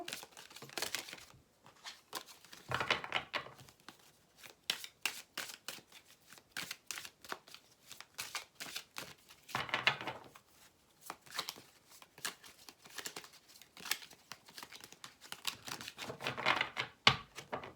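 Cards are shuffled and drawn, giving faint, quick papery riffles and flicks that come in scattered bursts with gaps between, close by and without talk.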